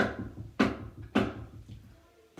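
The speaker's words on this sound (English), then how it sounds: "He had just sat down when there was a knock at the door." Wooden door being knocked in a fairy tale of a pig's house, with two sharp, loud raps half a second apart and a fainter tap at the end, alone without speech.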